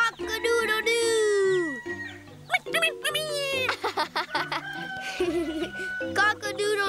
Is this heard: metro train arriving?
no